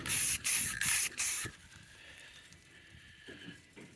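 An aerosol can of spray paint made for plastics sends four short, loud hissing bursts onto a plastic GE Musaphonic table set, then falls quiet apart from faint handling noise.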